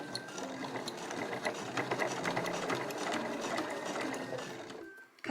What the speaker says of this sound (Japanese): はい、そしたらゆっくり縫っていきましょう。